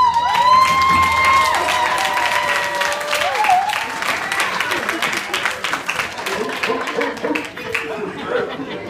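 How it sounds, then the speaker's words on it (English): Church congregation clapping and cheering for the men on Men's Day, a lively mix of applause, laughter and chatter filling the room, steady and close, thinning slightly toward the end. "let's give them a clap of hands"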